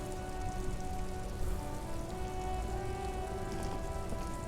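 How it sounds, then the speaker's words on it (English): Steady rain falls in the Disco Elysium video game, a soft continuous patter on surfaces with a faint tonal hum underneath, even and unbroken throughout with no voices. "Stuck in the rain in a traffic jam, man."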